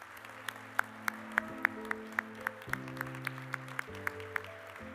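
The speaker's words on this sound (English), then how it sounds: "Let's give a big final round of applause to everyone that was recognized here today." Sparse clapping rings out at a Forty Under 40 recognition event, single sharp claps spaced roughly evenly over sustained organ-like music chords, fairly faint and distant.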